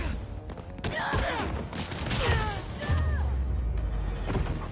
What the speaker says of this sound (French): Non, c'est une explosion.